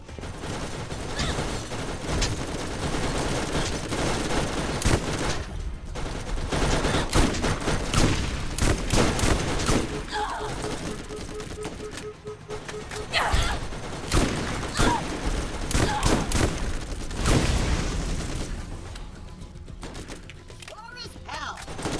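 Gunfire in the shooter game Borderlands, repeated bursts and single shots crackling through a busy mix of game effects for the whole stretch, with someone talking at times over the action.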